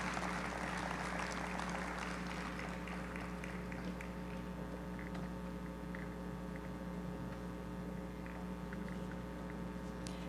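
Audience at the Tobago Day Awards applauding an awardee, dense clapping that swells at first and then thins to a steady patter over a constant low electrical hum.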